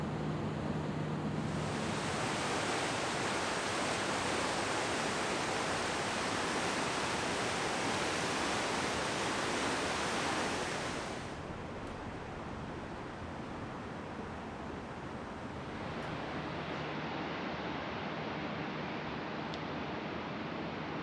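The River Wear rushes beneath Framwellgate Bridge in Durham as a broad, steady roar of flowing water, loud and constant, dipping slightly in level partway through before swelling again.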